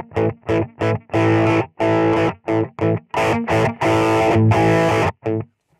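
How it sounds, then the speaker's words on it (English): Crunchy, distorted bass guitar amp sound from a Zoom G6 multi-effects processor, playing a series of short punchy notes and a few held ones, loud and close, ending abruptly. "It's basically like a crunchy type bass guitar amp sound."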